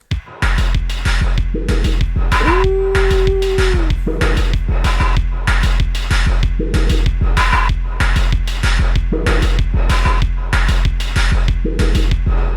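A slow, heavy drum loop with deep repeating kicks and snappy hits in a steady groove, a sustained synth tone gliding in briefly.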